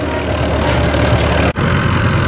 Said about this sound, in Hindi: आवाज से भी आप चेक कर सको भाई दब नहीं रहा ट्रैक्टर